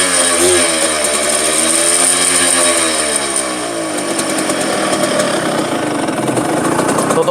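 A Suzuki A100 motorcycle engine idles smoothly and steadily up close, a continuous even putter with slight shifts in pitch midway and no speech over it.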